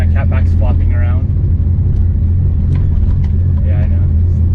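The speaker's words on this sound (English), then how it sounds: "Listen to that chop. It's like the signature Evo low-key noise." A Mitsubishi Evo with a new catback exhaust idles with a loud, steady low rumble and choppy pulsing, while people talk over it close by.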